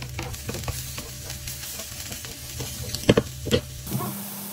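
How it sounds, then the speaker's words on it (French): Onion and garlic sizzling in olive oil in a pan for a savoury mushroom cake, a close crackling fry with stirring scrapes and a few louder clinks near the end. "je vais venir faire revenir l'oignon et l'ail dans l'huile d'olive"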